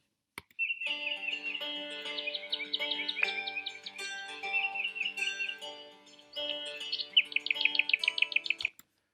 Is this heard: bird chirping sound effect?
yes